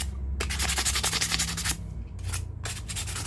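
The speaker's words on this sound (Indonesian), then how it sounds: "Bisa juga diamplas menggunakan amplas yang sedang atau agak kasar" A distributor part from a modified Delco unit is rubbed with medium-coarse sandpaper to round its corners, producing close, rhythmic scratchy strokes in a few bursts with brief pauses between them.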